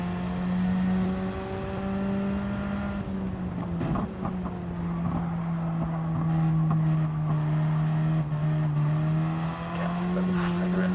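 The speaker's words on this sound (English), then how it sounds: "these little radicals, fun little cars. That's what they're in, blasting around in." Radical race cars blasting around a track in a sim racing game, a steady, loud engine drone holding one pitch with small shifts in throttle, running continuously with no talk.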